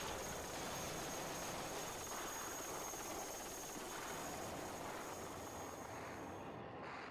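Helicopter rotors and engines drone loudly and steadily throughout, a constant whine riding over a broad rushing roar, at the fall of Saigon in 1975.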